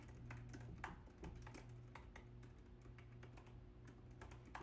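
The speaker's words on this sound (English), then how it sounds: "Yeah, I'm typing" Rapid, irregular keystrokes on a computer keyboard click steadily throughout, fairly quiet and close, over a constant low electrical hum.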